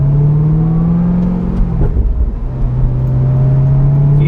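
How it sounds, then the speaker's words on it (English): A 60th Anniversary Corvette ZR1 with a supercharged V8 drones loudly up close, its engine note climbing, dipping briefly with a shift, then pulling again through a rumbling exhaust. "If you shift it slowly, you get some really nice pops and burbles out of the exhaust."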